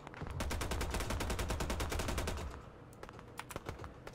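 Rapid automatic rifle fire from the Operation: Harsh Doorstop video game, a dense stream of sharp shots for about two and a half seconds, then a few scattered bursts trailing off more quietly.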